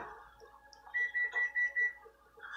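Five quick, high electronic beeps sound in an even rhythm, fairly faint, against quiet kitchen background noise.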